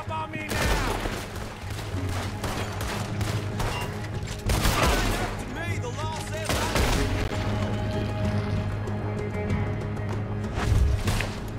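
A sustained gunfight in Red Dead Redemption 2, with dense, rapid volleys of gunshots cracking close and loud and continuing almost without pause.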